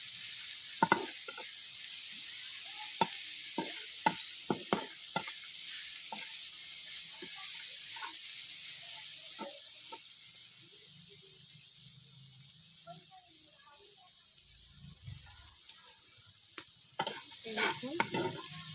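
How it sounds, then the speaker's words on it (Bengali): Elephant foot yam curry with tomatoes fries in a pan while a spoon stirs it: a steady, close sizzle with repeated sharp scraping clicks, continuing alone without talk. "ভালো করে নাড়তে হবে।"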